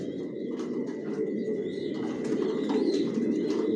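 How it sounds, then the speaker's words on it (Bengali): Racing pigeons coo inside a loft: overlapping soft, throaty coos repeat over a steady murmur of the flock, with a few faint chirps and no talking. "কোয়ালিটি সম্পন্ন কবুতর পালি"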